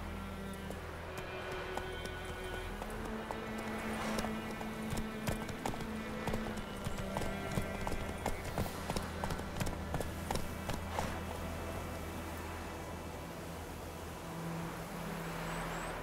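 Roach, a horse in The Witcher 3, gallops with steady rhythmic hoofbeats over a constant game soundscape, the clip-clop quickening through the middle before easing toward the end.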